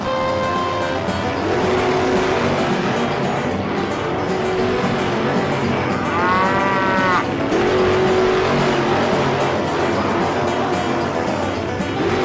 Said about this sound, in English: Tractors, start your engines.